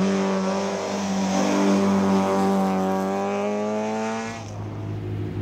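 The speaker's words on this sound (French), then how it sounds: "Deuxième, le local, le Duniérois Romain Nouvet, avec une Saxo." A Citroën Saxo rally car at the Dunières hillclimb howls past at high revs, its loud engine note climbing and holding before fading as it moves away.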